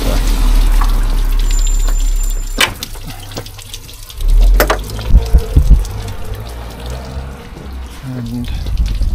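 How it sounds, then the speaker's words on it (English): Water pours and gushes out as a water tank is emptied outdoors by a garage, a steady loud rush with splashing bursts, and someone talks now and then over it. "So I'm just emptying my tank now. That's my water tank, I'm just emptying that."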